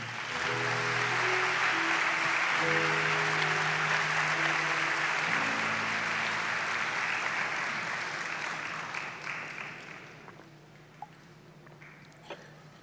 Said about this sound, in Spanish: Cierra tus ojitos, dale palmas al Señor.